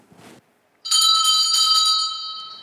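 A single metal bell is struck once after a short soft rustle, ringing bright and close, then its steady tone slowly fades.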